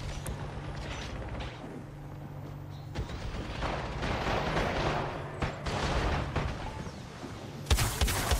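Gunfire from teams fighting in a shooter video game, with scattered loud shots and bursts over a steady background rumble, heaviest through the middle and closing with a sharp blast.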